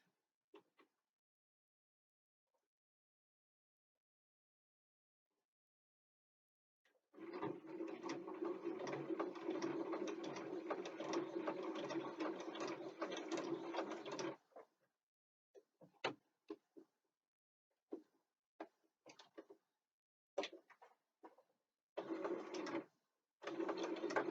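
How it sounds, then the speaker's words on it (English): A sewing machine stitching a bookbag runs close and steady for about seven seconds, its rapid needle clatter filling the quiet room, then follows with short separate bursts of stitching. "So I'll just go ahead and sew that down."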